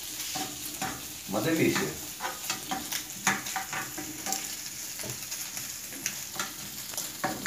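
Bacon frying in a pan for a mortadella omelette, a crackling sizzle with scraping stirring strokes and utensil taps throughout, close up, with a brief spoken remark.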